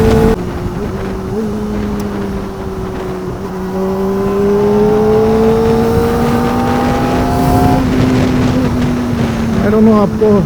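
A Kawasaki ZX4RR motorcycle engine revving past 8000 RPM while riding, a loud rising whine that climbs in pitch, briefly drops, and climbs again near the end, with wind rush beneath.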